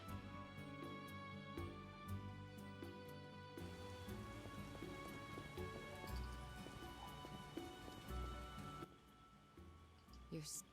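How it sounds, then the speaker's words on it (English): Rain falls steadily in The Witcher game, a continuous wash of drops beneath layered ambient music and tonal game sounds, with a few horse hoof clops possible in the mix; no speech is heard. "It'll rain through tomorrow."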